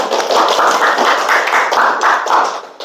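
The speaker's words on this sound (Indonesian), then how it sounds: "Tepuk tangan untuk kita semua" A school class claps together in a dense, steady rhythmic pattern, loud and close, without pause for nearly three seconds.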